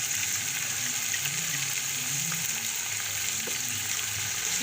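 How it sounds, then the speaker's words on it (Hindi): Mutton and crushed ginger fry in a pan, a continuous, even sizzle with faint low stirring thumps underneath, close and moderately loud, with no talking. "इसको हम अच्छी तरह से इसमें फ्राई करेंगे"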